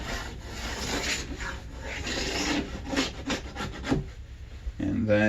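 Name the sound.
scraping wax off the sides of Madshus skate skis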